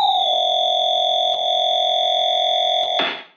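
A Serum synth tone run through an all-pass filter holds a steady, loud, bright sustained pitch with a faint buzzing edge for about three seconds, broken by a couple of tiny clicks before a noisy fade-out.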